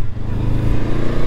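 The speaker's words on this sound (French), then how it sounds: "maintenant je vais vous tester le freinage combiné" Honda CL500 motorcycle during a combined braking test, its engine running steadily close by with a low, even rumble and no voices.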